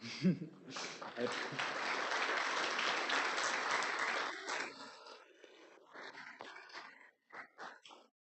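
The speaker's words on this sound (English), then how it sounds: "Another round of applause for all the Eagle Scouts today." Audience applause for Eagle Scouts at a Boy Scouts ceremony: a sustained burst of clapping and cheering that fades after about four seconds, then voices talk and laugh nearby.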